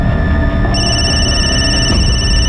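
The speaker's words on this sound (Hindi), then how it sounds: "ये किसका फोन आ रहा है बार बार?" A telephone rings repeatedly in a steady electronic tone that persists throughout at a moderate, close level, with no talk over it.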